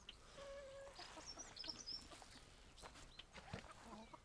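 Chickens clucking softly nearby in a wood-chip deep-litter pen, a few short calls and higher squawks over quiet outdoor background, with faint voices.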